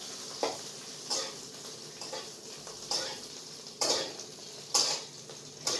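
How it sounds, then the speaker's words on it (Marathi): Chilies frying in a pan over low heat. A quiet sizzle sits under repeated scraping and clinking strokes of a utensil against the pan, landing about once a second. "मिरची चांगली अशी तळून घ्यायची बरं का, असं डाग पडेपर्यंत याला ना असं तळून घ्यायची"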